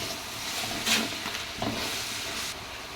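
Bay leaf sautéing in hot oil in a pan for jackfruit biryani, a steady close sizzle with a couple of brief stirring scrapes, with no talk.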